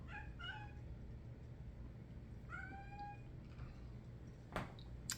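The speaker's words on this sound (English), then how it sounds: "Oh, here comes my cat going meow, meow." A house cat meows indoors, two short rising calls about two seconds apart, faint and at a distance over a steady low background hum.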